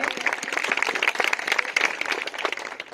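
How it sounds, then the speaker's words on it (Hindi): Higher secondary students at a career guidance session give loud applause, a dense, continuous burst of many hands clapping for about three seconds. "बहुत बढ़िया, जोरदार ताली इनके लिए"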